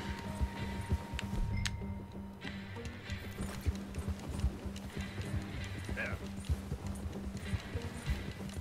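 Hooves clop in a steady rhythm beneath ongoing Red Dead Redemption 2 game sounds, with a horse snorting and voices speaking over it.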